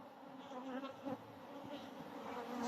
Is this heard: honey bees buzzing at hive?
yes